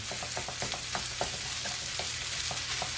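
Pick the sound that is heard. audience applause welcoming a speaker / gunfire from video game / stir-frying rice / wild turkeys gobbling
stir-frying rice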